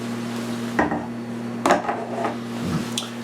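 Metal sliding cover pulled off a Pullman loaf pan holding risen pain de mie dough, a few distinct scraping clacks and knocks against a low steady hum.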